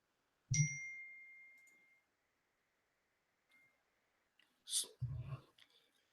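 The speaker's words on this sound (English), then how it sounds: "My phone is set up to keep dinging until I do something." A phone notification chime rings out once and fades slowly over about a second and a half; a fainter, shorter burst follows near the end, after a quiet gap.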